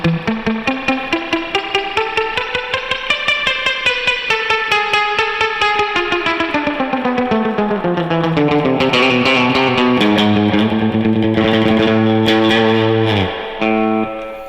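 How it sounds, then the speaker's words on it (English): An electric surf guitar plays through heavily cranked amp reverb, with rapid picked notes in a long descending and rising run that turns into sustained, washy chords near the end, loud and close with no talking. "now I'm gonna switch to amp reverb, and I'm gonna crank it up, and you'll hear the difference"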